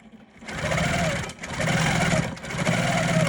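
A longarm quilting machine stitches a quilted stocking piece in three steady bursts of rapid mechanical whirring and needle chatter, close and loud, separated by brief pauses.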